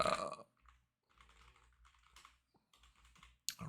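Keystrokes on a computer keyboard as a website address is typed, quick irregular clicks in short bursts with pauses between, fairly faint and close, with no talking.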